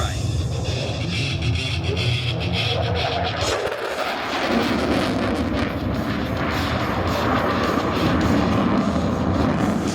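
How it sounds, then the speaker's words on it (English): An F-16 Viper jet roars past at the Warbirds Over Wanaka airshow, a loud, sustained broadband rumble that dips briefly and then builds again, with a commentator's voice over the engine noise. "Captain Smith is now repositioning and slowing the F-16 down in preparation for a slow speed pass"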